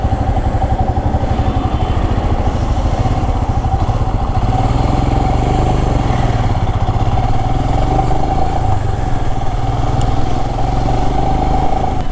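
A Royal Enfield Himalayan BS6 motorcycle riding through Alappuzha town, its engine thumping steadily and loudly up close with wind rush, no talk.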